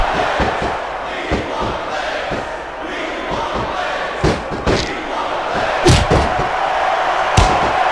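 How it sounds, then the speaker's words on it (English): Arena crowd in the Smackdown vs RAW 2006 wrestling game, a steady roar of cheering with repeated heavy thuds and slams from the ring cutting through. "Superstar is all fired up, and so is this capacity crowd."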